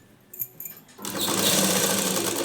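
A sewing machine stitches a blouse during finishing work: a few light clicks and handling sounds come first, then a loud, continuous whirring run of stitching fills the rest.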